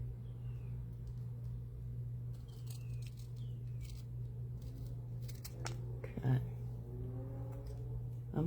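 Scissors snip through paper while cutting out bird shapes, a series of short crisp cuts near the microphone over a low steady hum, with a person talking.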